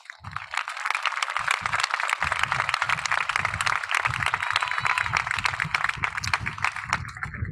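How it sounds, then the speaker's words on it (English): A crowd at a high school graduation ceremony gives parents and guardians a rising round of applause, loud dense clapping that swells quickly and holds steady, close and filling the room with no voices over it. "Please rise and give your parents and guardians a round of applause."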